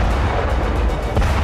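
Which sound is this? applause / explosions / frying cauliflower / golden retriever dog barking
explosions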